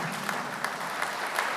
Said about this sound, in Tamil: ஒரு உற்சாகமான கைத்தட்டு.